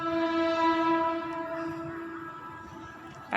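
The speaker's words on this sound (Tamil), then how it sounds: "பக்கத்துலேயே எங்கள் ட்ரெயின் வேறு போதாங்காட்டி அது ஒரு சத்தம்," A train rolls past close by with its horn sounding in a loud, sustained, fading blast, heard from a home kitchen where egg curry is being made.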